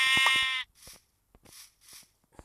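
A single loud, wavering sheep bleat up close, followed by quieter bleats and soft rustling.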